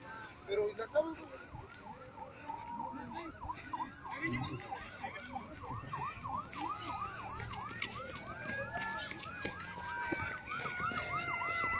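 Ambulance and emergency vehicle sirens wail after a Pemex pipeline explosion in Hidalgo, several overlapping sirens rising and falling at moderate distance over crowd noise and background voices.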